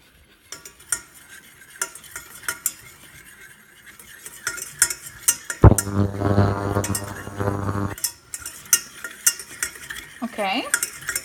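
A whisk stirring whole wheat flour in a pan for a lasagne sauce, with close metallic clinks and scraping against the pan and a brief burst of sizzling in the middle, no talking.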